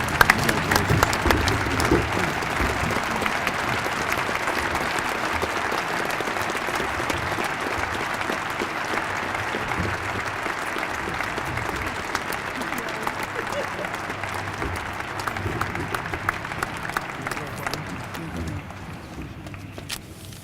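Sustained applause from a banquet audience honoring sports hall of fame inductees, a broad steady roar of clapping with crowd murmur and voices mixed in, gradually fading toward the end.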